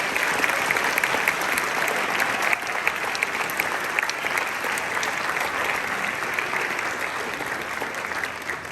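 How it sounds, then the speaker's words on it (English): Sustained audience applause at a university honors band concert, steady and dense for the full stretch, with no one speaking over it. "Give them a round of applause."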